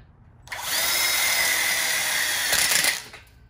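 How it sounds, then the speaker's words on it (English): A power drill drives a screw into a backsplash wall module with cement board, one close, continuous whirring burst lasting about two and a half seconds, with quiet before and after. "You want to get a couple screws in."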